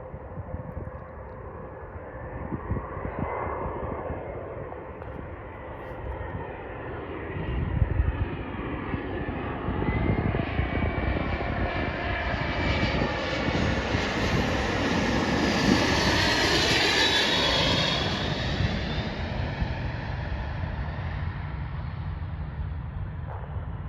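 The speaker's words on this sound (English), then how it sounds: "Lufthansa flight from DFW, Airbus A330-300 going out to Frankfurt" Lufthansa Airbus A330-300 jet in older livery departing DFW for Frankfurt, a steady, powerful engine roar building to a loud peak mid-pass with a rising high whine, then holding strong, heard from a distance outdoors.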